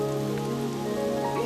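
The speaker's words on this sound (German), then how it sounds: "Und wie kann man den Regen wieder abstellen?" Steady rain pattering on a surface, switched on with a button in a 1995 German stage comedy, a continuous even hiss with faint tonal hum beneath and no voices.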